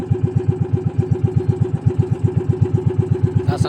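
A motorcycle engine runs roughly at a high idle, close and loud, with a steady, throbbing pulse that stays even throughout and has no voices over it.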